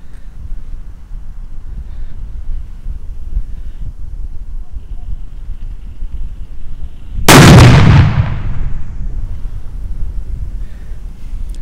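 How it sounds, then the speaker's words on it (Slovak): A Doom Boom 50, a 50-gram firecracker, bursts on concrete outdoors with one sharp, loud bang around midway, then a brief rumbling decay over steady low wind noise. "Ďalej si dáme petardu Doom Boom 50, 50 gramovku"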